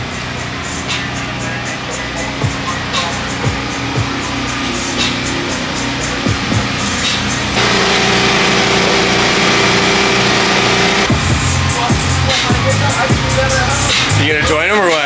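A Formula Drift car's engine warms up at practice in New Jersey, a loud steady idle with revving swells and a rise partway through, filling the whole stretch with no voices.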